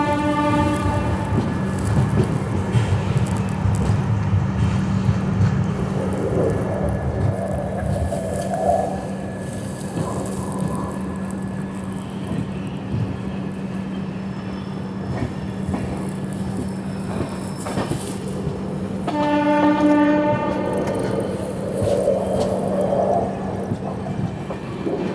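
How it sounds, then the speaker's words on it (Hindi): The Garib Rath Express pulls out of New Alipurduar station with a steady, loud rumble of wheels and a low engine drone. Two sustained horn blasts sound, one at the start and one near the end. "12:35 पर हमारी ट्रेन निकल रही है न्यू अलीपुरद्वार से।"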